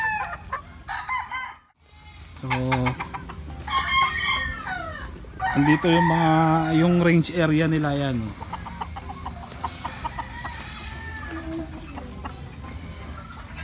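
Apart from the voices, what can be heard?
chickens clucking and roosters crowing on a game farm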